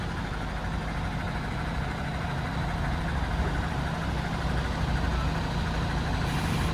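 A MAN grain truck's engine idles steadily and loudly as its converted dump body is raised, a constant low rumble with no speech over it.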